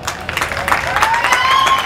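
Crowd at an outdoor street-fair arts show claps and cheers steadily, with whistles and shouts rising above dense, continuous applause throughout.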